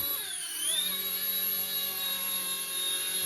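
An RC ERA C184 MD 500 model helicopter spins up and lifts off, its rotor whine rising in pitch at first and then holding a steady, buzzing electric tone close by.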